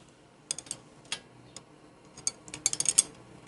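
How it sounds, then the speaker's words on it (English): A wrench working on the push rod adjuster and lock nut of a 1974 Harley Sportster engine, heard as faint, sparse metallic clicks and ticks that cluster into a quick run of taps toward the end, close by and without talk. "So we'll take this wrench here."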